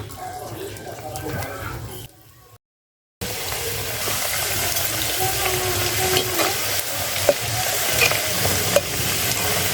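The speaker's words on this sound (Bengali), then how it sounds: "ছোট্ট লোহার কড়াইতে দিয়ে দিলাম তেল এই পিঠাগুলো আমি হচ্ছে সর্বপ্রথম বানিয়েছি তো এইগুলাই আমি হচ্ছে তেলের মধ্যে আগে দিয়ে দেবো" Rice-flour pitha cakes frying in oil in a small iron wok, a loud continuous sizzle with scraping stirs, briefly cut off by a short gap of silence, while a voice speaks faintly at times.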